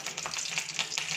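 Mustard seeds fry in hot oil in a pan, giving a short, dense patter of tiny crackles and pops, heard up close with no talking.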